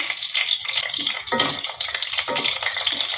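Whole cumin, two bay leaves and dried red chillies sizzle in hot oil for a kalia tempering, a close, steady crackling hiss with small bursts of spitting throughout.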